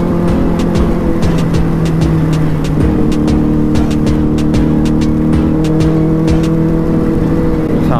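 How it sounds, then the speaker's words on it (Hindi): A superbike engine drones loud and steady at high speed in fourth gear, a continuous close rumble with a slight pitch shift partway through, wind rushing over the rider throughout. "तो ऐसे सुपर बाइकों को तेज़ भागना ही पड़ता है थोड़ा सा,"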